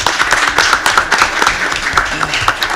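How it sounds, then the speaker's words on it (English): A round of applause at a Williamston, SC council meeting breaks out as dense, continuous clapping from a small crowd, close and steady for a few seconds. "Let's give them a round of applause."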